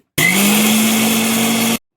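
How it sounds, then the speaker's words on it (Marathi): A kitchen mixer grinder blends grated coconut with water for coconut milk, a loud, steady whirring roar that starts abruptly, runs for about one and a half seconds, then cuts off. "आता थोडंसं पाणी टाकून मिक्सरला लावून नारळाचं दूध काढून घ्यायचं आहे."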